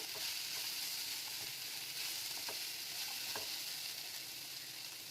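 Capsicum sizzles in a pan with spring roll filling, a dense continuous frying hiss punctuated by a few light scrapes of stirring, close and steady with no talk.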